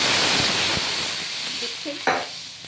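Water poured into spice paste frying in a pan for a thin Bengali fish curry, setting off a loud, steady hiss and sizzle, with a sharper burst of spitting near the end. No one speaks.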